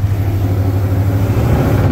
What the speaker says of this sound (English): Okay, it'll do a burnout